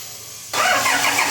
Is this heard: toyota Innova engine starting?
yes